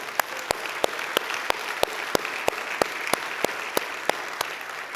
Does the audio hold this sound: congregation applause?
yes